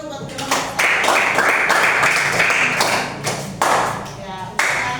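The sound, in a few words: applause for group 1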